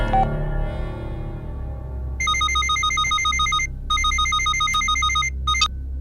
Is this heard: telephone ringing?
yes